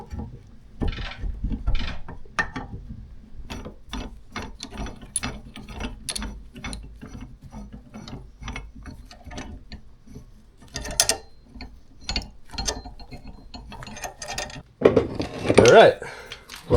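A bearing puller removing a bearing from an old, 20-year-old fishing jig motor. It makes repeated ratcheting clicks and metallic tightening ticks in a steady rhythm, then a louder scraping, clanking burst near the end as the bearing comes free.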